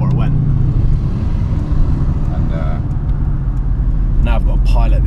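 A Mercedes-AMG drives through the tight streets of London, its deep engine rumble and road noise heard from inside the cabin, steady and close, under people talking.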